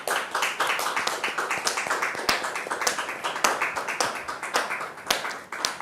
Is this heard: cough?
no